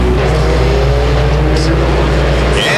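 Late model sportsman race cars roaring around Beech Ridge Motor Speedway, a dense continuous engine drone with a commentator talking over it, the roar cutting briefly near the end.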